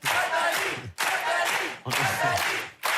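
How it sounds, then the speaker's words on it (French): Game-show studio audience on the French program Tout le monde a son mot à dire claps and cheers in three loud, dense bursts, each cut off sharply by a brief dip. "Applaudissements."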